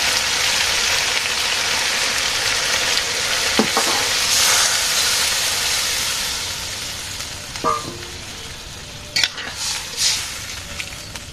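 Loud, dense sizzling rises from a hot pan as gravy is poured in during simple village cooking. Several clear scrapes and clanks from stirring in the pan cut through the sizzle toward the end.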